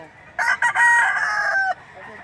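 A rooster at a busy Saturday chicken market in Lipa City, Batangas, crows once, loud and close, in a stuttering rise followed by a long held note, with faint background murmur around it.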